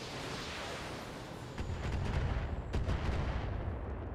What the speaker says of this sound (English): this one, I'm assuming, is going to fire the LRM-10 on the blackjack